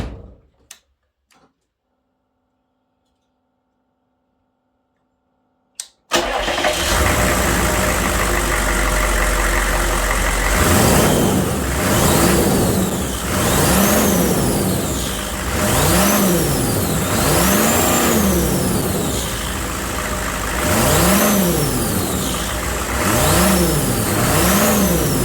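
A 6.5 Detroit diesel engine cranks and fires after about six seconds of near silence, then runs loud and close, revving up and down in repeated swells with a rising turbo whine over a clattering idle.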